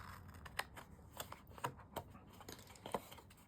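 Scissors cut out a paper square while making Christmas bauble treat holders: quiet, close snips and rustles spaced unevenly, with paper shuffling between cuts.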